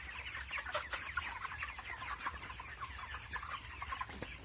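Chickens cluck steadily inside a broiler shed, many birds at once, a dense overlapping chatter of short calls at moderate distance with no one speaking.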